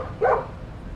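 A single short dog bark from a greyhound in the Gangs of London video game, a brief mid-pitched yelp over a low background hum.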